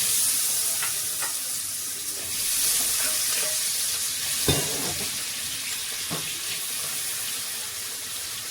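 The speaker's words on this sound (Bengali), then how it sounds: "এদিকে আমি চিংড়ি মাছগুলো ভেজে নিব।" Prawns frying in hot oil in a wok, a steady close crackling sizzle running throughout with a few sharper pops and stirring clinks.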